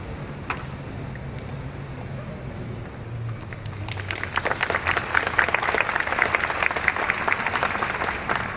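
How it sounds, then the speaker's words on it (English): Audience applause at the 2011 Emory University School of Law commencement ceremony for Master of Laws degree recipients, swelling after a few seconds of low murmur into a dense, sustained clatter of many hands across the hall. "I will ask that you please hold your applause to the end."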